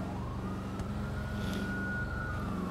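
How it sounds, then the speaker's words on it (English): A police siren in a video game roleplay wails continuously with a rising tone, loud and close over a constant low engine rumble, with no talking. "That siren scares me."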